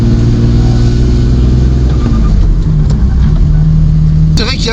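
A BMW E36 engine, fitted with a reinforced clutch and lightened flywheel, revs loudly up close, its pitch rising and falling with the throttle, then ending in a sharp burst of noise.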